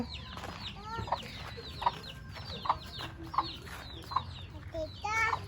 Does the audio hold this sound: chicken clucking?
yes